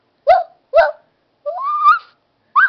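A young child imitates a dog with a few short yips and a longer whining howl, close and clear.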